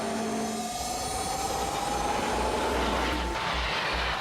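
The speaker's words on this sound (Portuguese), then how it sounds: "neste trem da Eurostar, que está de partida para a Disneylândia de Paris" A Eurostar high-speed electric train pulls away with a steady, loud rumbling roar. A faint whine rises across the clip, with deep rolling thumps from the wheels and no voices.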